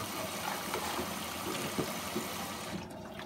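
Steady rushing of water flowing into a Bosch WFF2000 washing machine, a continuous broadband hiss with faint gurgles, moderately close and uninterrupted.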